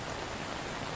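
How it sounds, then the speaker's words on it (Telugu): Heavy rain pours down in Hyderabad, a steady, dense wash of hiss that stays even and close throughout the short stretch, with no voices. "హైదరాబాద్లో పలు చోట్ల భారీ వర్షం కురిసింది"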